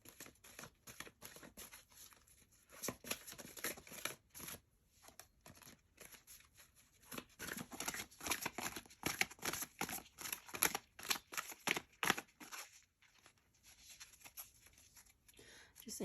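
Tarot cards being shuffled near the end of a collective love reading, a dense run of crisp riffling and flicking bursts in close succession, fairly quiet, with short pauses between bouts and no talking.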